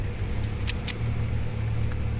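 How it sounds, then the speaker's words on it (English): Car engine in the Fortnite battle royale, a steady low rumbling drone running throughout, joined by two brief bright bursts near the start and no talking. "I hear another car."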